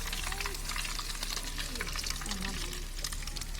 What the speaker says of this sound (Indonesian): Tuh digoreng lagi.